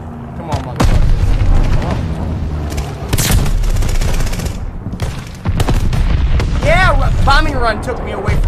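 Heavy bombing-run explosions in Call of Duty: Vanguard, a string of loud booming blasts and rumbling impacts with crackling debris, dense and close, while a player talks over the gunfire.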